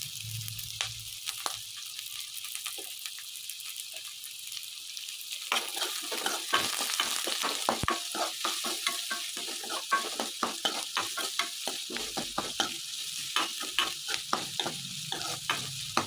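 Onion and curry leaves sizzle in a hot pan for vegetable Maggi, with steady frying crackle and repeated scraping stirs that grow busier partway through; no voices.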